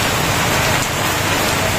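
Steady rain falls hard and continuous during a stretch of bad weather, a loud even hiss with no break.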